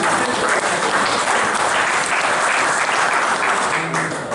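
Audience applauding steadily at a dog training brevet event in Saint Clair, dense sustained clapping from many hands at moderate distance, tapering slightly near the end with no talk over it.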